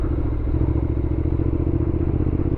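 A Honda X-ADV 750 scooter engine drones steadily up close, a constant throbbing rumble with a rattling undertone as it rides along in Barangay Escopa, Baguio City.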